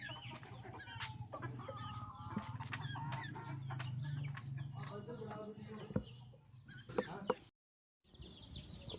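Desi hens, chicks and roosters in separate village coops cluck and chatter continuously at moderate distance, with overlapping calls and someone talking over them before a brief silence.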